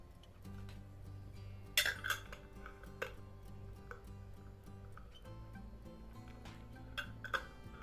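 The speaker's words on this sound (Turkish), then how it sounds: "Ve şimdi kapağımı önce yerleştiriyorum ve güzelce sıkıyorum. Ters çeviriyorum." Glass sauce jars clink and knock as metal lids are screwed on tight and the jars are turned upside down, several sharp taps and rattles over a low kitchen hum.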